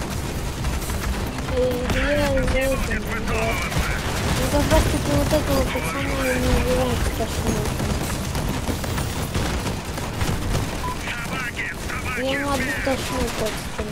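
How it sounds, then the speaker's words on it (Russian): Rapid gunfire and booming weapon blasts from a Crossout vehicle-combat clan battle fill the whole stretch continuously, loud and dense, with players' voices talking over the shooting. "Егор, не перекрывай выстрелы, уйди куда-нибудь"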